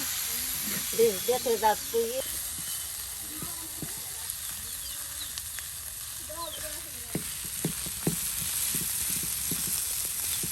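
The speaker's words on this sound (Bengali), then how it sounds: "দেখুন মাছগুলি সুন্দর করে আপনার পেঁয়াজ রসুনের সাথে মিক্স করে নেওয়া হচ্ছে" Taki fish frying in a pan with onion and garlic while being stirred and turned, with a steady close sizzle and scraping stirs. A person talks over it early on and intermittently throughout.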